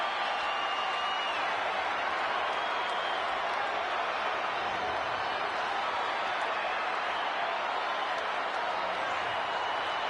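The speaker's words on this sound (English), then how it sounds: "The crowd is fired up, waiting to hear what he's got to say" A crowd roars continuously in a WWE 2K26 video game wrestling arena, a loud, steady, dense wash of cheering with no pauses.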